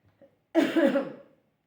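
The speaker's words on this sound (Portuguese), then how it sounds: "eu estou com tosse hoje" A single cough, fairly close and clear, preceded by a couple of faint small sounds, then silence.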